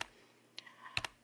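A few sparse clicks of keys on a computer keyboard, quiet and close, with short gaps between presses and no voices.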